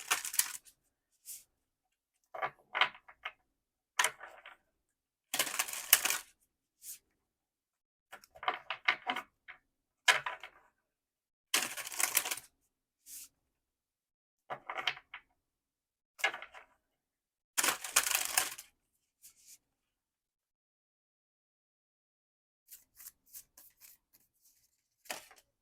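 Cards from an oracle deck are shuffled and drawn in short, crisp riffling bursts, close and fairly loud, broken by frequent stretches of silence.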